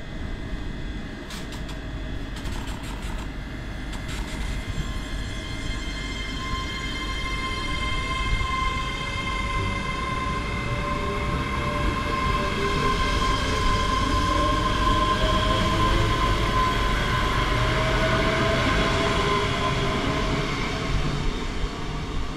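A Class 385 electric train departs North Berwick for Edinburgh, a loud continuous rumble of wheels and traction with rising motor whine and faint squeals as it pulls away, no talking.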